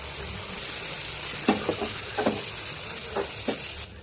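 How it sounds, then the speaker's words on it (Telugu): Chicken pieces frying in a pan with ginger garlic paste hiss steadily, with several sharp clattering stirs of a utensil scattered through the sizzle, close up and with no voices. "అల్లం వెల్లుల్లి పేస్ట్ పచ్చివాసన పోయేంత వరకు ఫ్రై చేసుకొని ముందుగా కడిగి పెట్టుకున్న చికెన్ యాడ్ చేసుకోండి."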